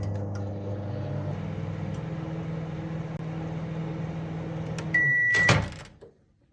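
A microwave oven runs with a steady low electrical hum while a microwave-safe bowl of apple slices cooks inside. The drone continues unchanged, then a sharp beep sounds, followed by a clunk and a drop into near silence.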